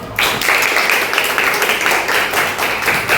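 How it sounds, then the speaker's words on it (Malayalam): Audience clapping at a school talk on exam fear in Kerala, a steady dense patter of many hands that starts abruptly and stays loud and even throughout. "എല്ലാവരും ഒന്ന് കൈയടിച്ച്."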